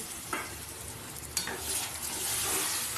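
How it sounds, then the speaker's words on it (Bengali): Eggs being sautéed in a spiced masala with a splash of water, spatula scrapes at the pan over a steady close sizzle that swells slightly toward the end. "আমি আর একটু সামান্য জল দিয়ে দেবো, দিয়ে আবারও কষিয়ে নেব"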